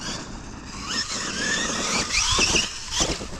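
RC truck motor revving hard on a wheelie attempt, a brief high whining squeal that rises and falls in short bursts against outdoor background noise, fairly close.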